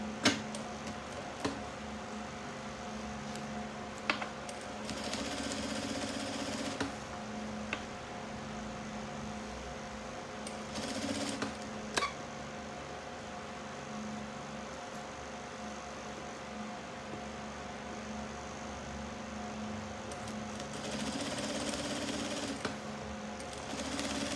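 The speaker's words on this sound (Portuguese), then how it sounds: "Então eu vou colocar na máquina, vou tracionar ele e fazer uma costura." A sewing machine stitches a seam on a crossbody bag, humming and whirring in several short runs between pauses, with scattered ticks and clicks and no talk.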